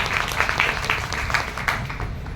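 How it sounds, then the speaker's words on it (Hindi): Audience applause and clapping at a Hindi motivational talk, a steady wash of many hands clapping together for a couple of seconds at moderate loudness, with no voices over it. "तो फिर से एक बार बजा दिए ताली।"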